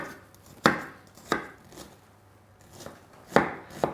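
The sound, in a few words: knife finely slicing onion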